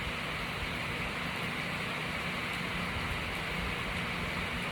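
Rain falling steadily, a dense even hiss of drops that stays constant and fairly loud throughout with no talking over it.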